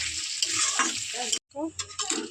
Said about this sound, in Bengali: এইটা আমি ব্রেস্তার জন্য ভেজে নেব ব্রাউন কালার করে ভাজবো আমি ব্রেস্তাটা